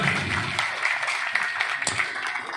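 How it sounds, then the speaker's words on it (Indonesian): An audience applauds at a community outreach gathering held by DPR RI and DPRD DKI PDIP members in a neighbourhood RW, a steady, moderately loud wash of clapping throughout. "Tepuk tangan untuk kita semua."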